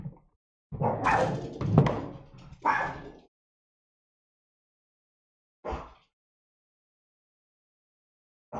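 A female dog at home gives a run of close, loud barks and yips, then falls quiet before two more short isolated barks.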